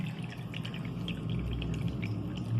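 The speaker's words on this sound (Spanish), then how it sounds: "el agua que cae del tercer agujero, del que está hasta más abajo, llega más largo el chorro" A stream of water pours from the lowest of three holes in a container, a steady splashing trickle with soft drip-like spatters, close and fairly quiet, with no talking over it.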